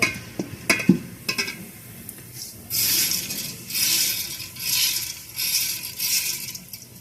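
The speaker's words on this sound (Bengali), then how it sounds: "এখন আমি ধুয়ে রাখা চালটা দিয়ে দেব" Washed rice tipped into a pan of reddish fried onions for coconut milk pulao, giving a few light clinks and scrapes at first, then steady rhythmic bursts of sizzling and scraping as it is stirred close by.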